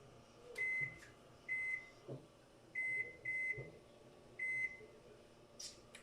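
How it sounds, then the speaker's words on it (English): A series of short electronic microwave timer beeps sounds, spaced in a steady irregular rhythm with light clicks and faint room noise between them. "I like to just set the timer on my microwave"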